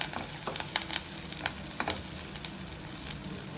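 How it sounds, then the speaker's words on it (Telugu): Mustard seeds fry in hot oil while tempering an Andhra-style green chilli pachadi, giving a soft steady sizzle broken by scattered small crackles and pops, faint and close. "ఆవాలైతే బాగా వేగినాయి ఫ్రెండ్స్"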